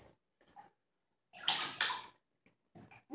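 Water sloshes and splashes in a bathtub in short bursts, one long loud splash in the middle and smaller ones before and after, with quiet gaps between.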